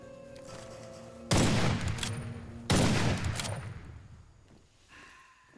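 Two loud sniper rifle shots from a video game boom about a second and a half apart, each followed by a long decaying rumble, with quieter game sounds around them.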